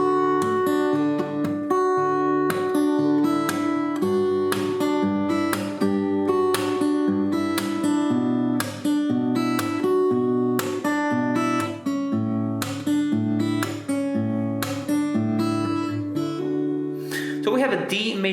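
Acoustic guitar played with a percussive thumb slap, a steady driving rhythm of strummed chords and sharp slaps moving through a new chord progression, loud and continuous throughout.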